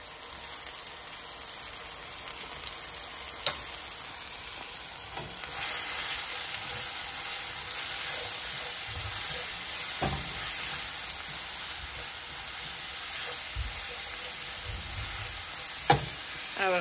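Onions and garlic fry in a pan for a Guyanese curry, a steady loud sizzle and hiss that flares up partway through, with occasional clicks and scrapes of stirring and no talk.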